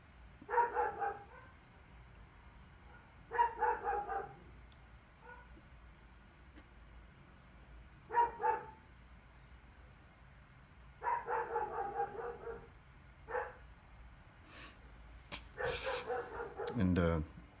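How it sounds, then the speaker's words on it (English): A German Shepherd barks in repeated bursts at a distance, several short volleys spread across the span, fairly faint behind the room; a louder yip-like burst comes near the end. "And I apologize for my dog back there."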